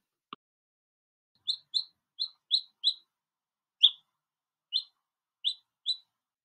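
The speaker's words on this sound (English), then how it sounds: "This is a chick." A chick chirps on a farm in nine short, bright peeps, evenly spaced and fairly close, with no voices.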